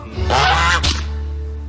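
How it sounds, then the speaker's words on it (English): Loud nasal honking calls from geese, a couple of harsh blasts close by over a steady low background hum. "Geese, you can hear their honks all the way in Ponyville."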